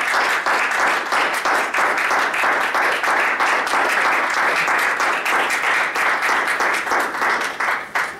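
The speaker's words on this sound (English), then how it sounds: "Thank you for the applause." Steady, dense clapping from an audience at the end of a show, loud and sustained with crisp individual claps blending into a continuous wash, no voices over it.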